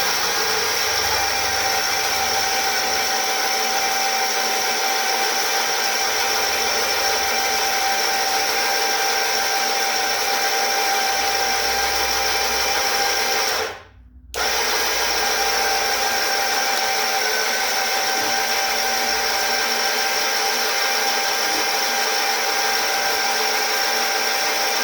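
An electric winch powers through a repair test while dragging a snowmobile, a loud steady motor whine running continuously with a single brief cutout midway, near and without talk.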